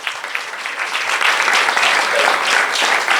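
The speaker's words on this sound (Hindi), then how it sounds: "वरुण के लिए ताली बजाएं पर जोरदार।" A church congregation claps loudly for a member, a dense, sustained roll of applause that builds slightly and stays strong to the end.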